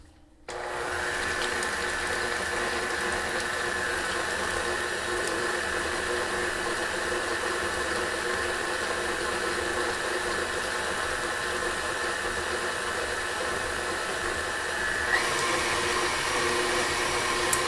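An electric stand mixer whirs steadily while beating peanut butter cookie dough with milk and vanilla extract for old-fashioned cookies, a loud continuous motor drone with a slight shift near the end and no talking.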